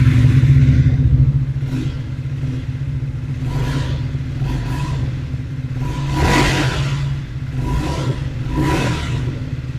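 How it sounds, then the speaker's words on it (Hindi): Triumph Speed 400 motorcycle revving repeatedly, the exhaust note swelling in several sharp blips over a steady idle thrum, loud and close with no talk. "सो कुछ इस तरह का एग्जॉस्ट नोट मिल जाता है आपको विद द ट्रायम्फ स्पीड 400"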